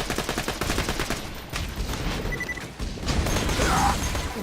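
Rapid automatic fire from Moxxi's Bad Touch, a corrosive SMG in the Borderlands video game, aimed at Hyperion soldiers and loaders: dense, continuous bursts of shots with mechanical clatter, loud and close, with no talking.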